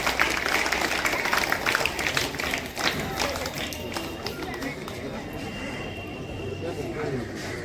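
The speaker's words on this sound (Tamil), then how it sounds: "அன்னாருக்கு நம் நன்றியை கைத்தட்டல் மூலமாக தெரிவிக்கலாம்." A school audience at a Republic Day function claps together, a dense, fairly close patter of many hands that is strongest at the start and slowly thins and softens toward the end.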